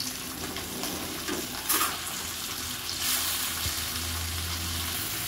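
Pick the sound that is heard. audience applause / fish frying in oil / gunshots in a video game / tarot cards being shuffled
fish frying in oil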